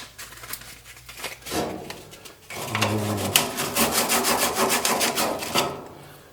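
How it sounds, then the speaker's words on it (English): Fine sandpaper rubbed over a Maytag dryer drum support wheel, a close, dry scratchy rasping that starts in short strokes and then becomes a steady run of quick back-and-forth scrapes. "Now that I got that drum support wheel off, use some fine sandpaper."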